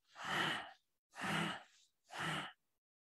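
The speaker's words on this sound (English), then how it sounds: "exhale." Three slow, breathy exhales during a qigong breathing exercise, each about half a second long and separated by short silences, close and soft.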